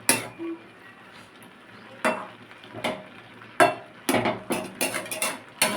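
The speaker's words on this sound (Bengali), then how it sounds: "এবার সবজিগুলোকে একটু ওপর নিচ করে নেড়ে দিচ্ছি যাতে প্রতিটা সবজি ভালোভাবে সেদ্ধ হয়ে যায়" Spinach and mixed vegetables get stirred in a pan, with irregular scraping knocks and clatters of a spoon against the metal, sparse at first, then quicker in a cluster near the end over a faint background.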